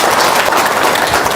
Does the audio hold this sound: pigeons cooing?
no